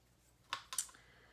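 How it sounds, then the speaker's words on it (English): Thread snips while sewing a coin purse: two quick, crisp scissor clicks close together, close and fairly quiet, with no voices. "Snipping off those threads."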